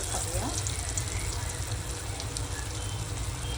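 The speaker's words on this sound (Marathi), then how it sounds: "आपण आता वडे टाकूया" Dal vada batter frying in hot oil on a heated pan, a steady close crackling sizzle throughout, with faint watery bubbling.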